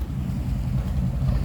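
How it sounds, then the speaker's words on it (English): Exhaust of a 1950 Ford Tudor Custom Deluxe flathead V8 fitted with Smitty mufflers, a steady low rumbling idle heard close from behind the car, continuous and even. "I love the sound of the Smitty mufflers with a flathead. It's got a nice pop to it, nice cackle."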